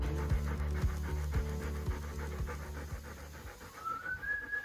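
A German Shepherd pants steadily and rhythmically close by on a hot day, with quick, even breaths repeating for several seconds in a quiet room.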